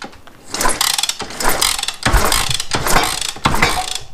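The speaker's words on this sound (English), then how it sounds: "All I'm going to do is just kick this thing over with the makeshift Bolt Kickstarter" A Honda Dream motorcycle engine, missing a spark plug, is kicked over with a makeshift bolt kickstarter: several loud, close bursts of ratcheting mechanical churning in a rough rhythm, with no catch or firing.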